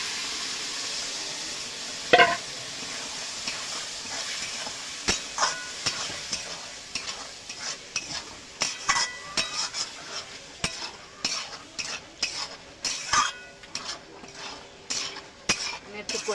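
Spices and chickpeas being stirred and sautéed in a pan for Bengali ghugni, with a spatula scraping and knocking against the metal in irregular clacks over a faint sizzle, quiet and close.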